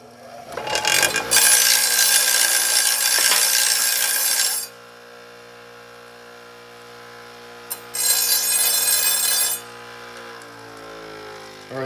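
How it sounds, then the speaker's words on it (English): A bench grinder grinds a taper onto a small steel part in a workshop. It makes two bursts of loud, harsh, high whining with a quieter motor hum in between, and nobody speaks. "I want to just grind a little taper on it with the bench grinder"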